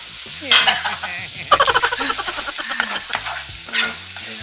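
Garlic and onion sautéing in butter in a pan for Filipino chicken macaroni sopas, heard as close, bright sizzling with rhythmic stirring scrapes and bursts of spattering, with no talk.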